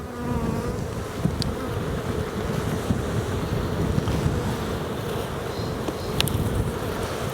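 Honey bees buzzing at an open hive during an inspection, a continuous dense close hum with light wind noise over the microphone.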